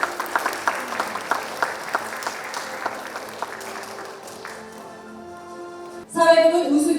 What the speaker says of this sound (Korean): 여러분께서 따뜻한 박수 다시 한번 부탁드리겠습니다.